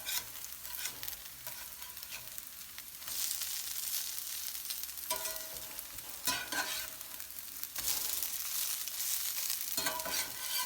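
Potato pancakes fry in oil on a griddle with a continuous close sizzle that swells louder in bursts as they are flipped and more oil goes in, with scattered crackles throughout.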